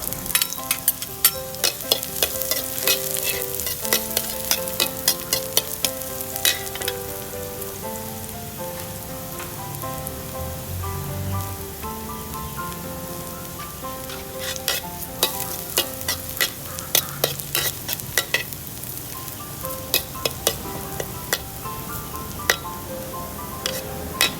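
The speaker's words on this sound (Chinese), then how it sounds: "先炒一下我们的大蒜" Garlic stir-fries in oil in a pan for Thai-style chili chicken nuggets, with continuous sizzling and frequent clinking scrapes of the spatula stirring close by.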